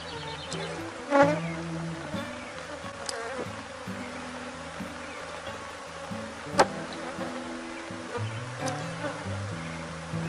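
Swarm of Africanized honey bees around hive boxes, a continuous close buzzing drone with a few sharp knocks and taps from handling the boxes, no talking.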